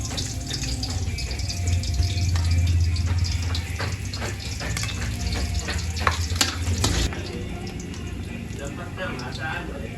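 Garlic and onion fry in a pan for pork giniling, making a steady sizzle with scraping stirring strokes that fade near the end. Music plays underneath.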